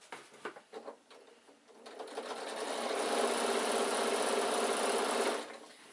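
A sewing machine stitches along the side seam of an insulated picnic bag, starting with a few short stuttering bursts before settling into a loud, steady run of about three seconds, then stopping abruptly.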